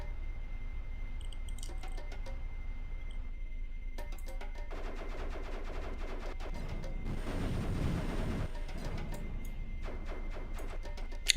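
Ship weapon fire in the space game Defect: a rapid stream of small clicking shots ticks steadily over a constant low engine hum, then thins out and slows near the end, with no voices.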